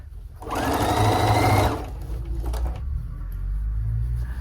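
A sewing machine stitches a dress seam in a loud, fast whirring burst lasting about a second and a half, then stops, leaving low room noise and a few faint handling clicks.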